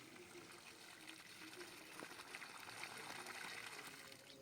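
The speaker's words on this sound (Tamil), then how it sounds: "இப்போ சுற்றிலும் நல்லா தண்ணி ஊற்றிக்கலாம்." Water poured around the base of a dragon fruit plant after fertilizer is placed in the soil, a steady soft trickling and splashing that runs continuously and grows slightly louder toward the end.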